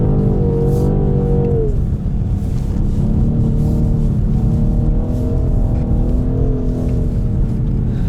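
A 530 hp BMW M850i xDrive Coupé engine pulls hard on a track, held in third or fourth gear, its loud rising drone sweeping up and easing back in pitch under constant road and wind roar from inside the car.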